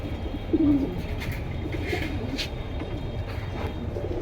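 Pigeons coo softly against a constant background rumble, one low coo standing out near the start.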